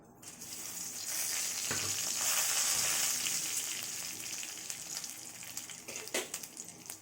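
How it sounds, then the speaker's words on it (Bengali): Dried chilli, bay leaf and five-spice tossed into hot oil in a kadai, a loud close sizzle that swells then settles, with a couple of stirring knocks, no talk. "এর মধ্যে আমি শুকনো লঙ্কা, তেজপাতা আর পাঁচফোড়নটা দিয়ে দিচ্ছি কড়াইয়ে।"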